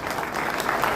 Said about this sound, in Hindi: सभी लोग जबरदस्त तालियों के साथ स्वागत करेंगे